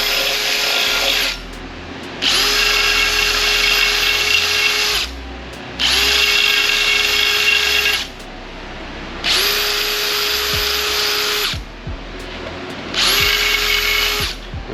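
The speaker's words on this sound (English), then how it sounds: "I grab a drill bit, throw it on a drill" A power drill fitted with a bit whirs in four or five loud sustained bursts with short pauses between, working inside the lower unit of a Mercury 200hp outboard motor.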